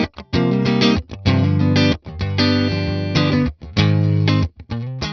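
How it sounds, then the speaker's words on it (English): An electric guitar through a clean Princeton-style amp plugin plays bright, clean chords in short strummed phrases with brief gaps, dry and upfront with no audible echo. "Super clean, super dry, sounds like this."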